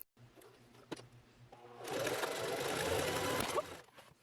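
A sewing machine stitches the cups of a plus-size 1790s Regency transitional corset, a steady whirring run of about two seconds after a few soft handling clicks, close and alone.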